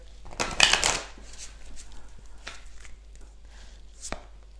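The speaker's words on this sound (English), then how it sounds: "So you guys see me shuffling these cards." A deck of cards is shuffled close up, with one loud, quick riffling burst followed by softer scattered card flicks and taps.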